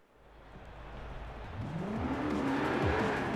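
A Koenigsegg Jesko hypercar in Forza Horizon 4, its engine note rising steadily as it accelerates, with rapid upshift sweeps and a tire squeal toward the end, loud and close with no talking.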